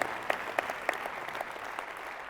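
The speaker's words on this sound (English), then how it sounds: "Let's clap for that." Scattered applause from an audience at an insurance-agent keynote, fairly quiet, with a few sharp individual claps standing out early on.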